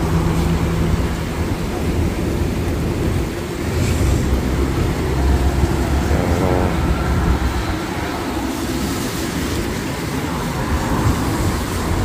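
A thunderstorm brings heavy rain, wind and flooding to a city street in Mecca, a loud and constant roar of rain and wind with deep rumbling underneath and no clear breaks.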